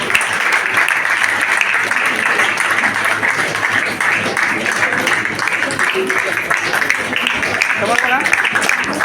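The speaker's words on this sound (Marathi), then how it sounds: "जोरदार टाळ्या होईल." Loud, sustained audience clapping at a senior citizens' association felicitation ceremony in Bhuigaon, a thick, continuous patter of many hands with faint voices beneath it.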